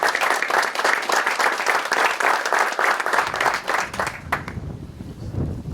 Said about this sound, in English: I just asked everybody to give them a round of applause.